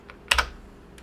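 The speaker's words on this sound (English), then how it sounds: "we're going to hit enter on the keyboard" A single quick keystroke, a sharp double click of the Enter key on a computer keyboard pressed and released, close and isolated against a quiet background.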